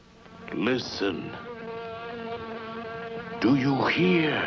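A housefly buzzes loudly and close in a monster-movie trailer effect, a continuous whining drone that swells and fades, with bursts of louder buzzing near the start and end.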